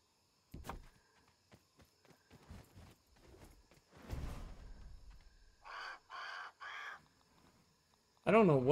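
Three loud, separate caws from a large bird in the survival video game Grounded, each a short harsh burst, following scattered thuds and rustling in a dark underground area, with another cry starting at the end.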